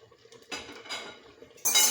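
Homemade apple jam stirred in a pot: a utensil scrapes and clinks against the metal in a few separate strokes, quiet and close, with a louder scrape at the end.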